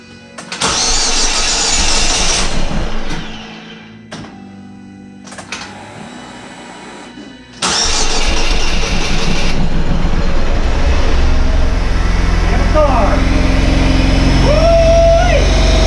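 A car engine is cranked over on a first combustion start attempt, with bursts of starter cranking and mechanical clatter giving way to a louder, sustained running roar near the mic.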